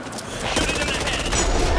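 Rapid automatic gunfire in the zombie shooter Back 4 Blood, a dense, loud, continuous stream of shots that builds up and keeps going to the end.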